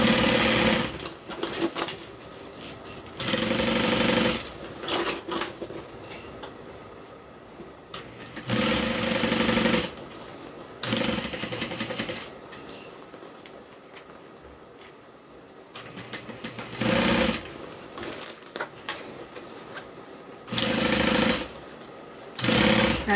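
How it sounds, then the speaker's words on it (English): A sewing machine stitches around a bag, its motor running in bursts of several seconds broken by short pauses, loud and close with no voices. "Now just sew and rotate."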